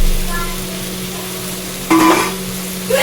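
Crabs sauté in a pan with lemon leaves, giving a loud, close sizzle with stirring scrapes and a sharp metallic clink near the end, all without talk.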